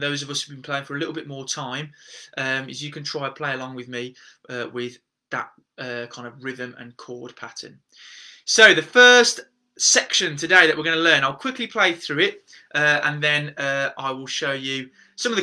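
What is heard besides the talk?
No everyday noises stand out.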